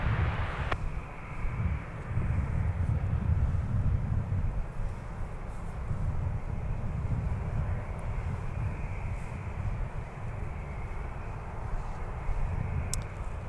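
A Delta airliner, flight 2673, departs Minneapolis–St. Paul bound for Houston Intercontinental, its broad engine roar steady and fairly distant, with a low rumbling wash and wind noise sustained for the whole stretch.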